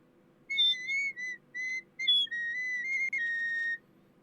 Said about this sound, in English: it is the mini recorder. And it sounds like this.